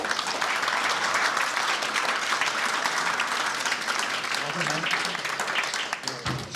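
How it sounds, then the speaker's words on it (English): Audience applause after a talk, a dense, steady wash of many people clapping that carries on throughout and thins slightly near the end, with a brief spoken remark heard over it. "Good round of applause"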